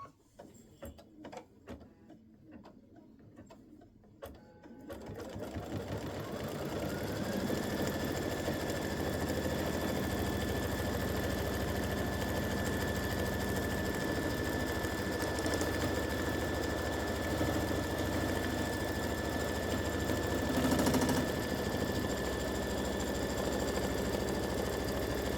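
Sewing machine tacking down two fabric pieces of a mug rug: after a few handling clicks it starts up and runs a steady, even whir for the rest of the stretch, close and unbroken.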